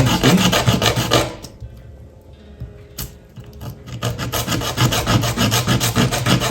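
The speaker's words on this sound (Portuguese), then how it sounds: "Depois que a gente cortou, para tirar a imperfeição, a gente vai passar na lixinha aqui." A freshly cut piece of bamboo is sanded with sandpaper, giving loud, rhythmic rasping strokes up close that pause briefly before resuming in quick repeated rubs.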